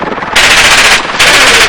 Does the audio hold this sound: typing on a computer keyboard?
no